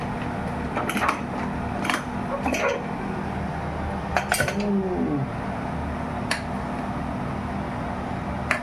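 A pressure cooker of khichdi is opened in a home kitchen, with scattered metallic clinks and clatters of lid, pot and utensils over a steady low background hum.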